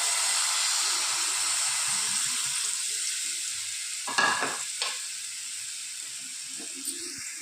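Mashed banana being stirred in a pan over a low flame for a sweet, with a steady soft sizzle and hiss throughout and a couple of brief scraping stirs near the middle.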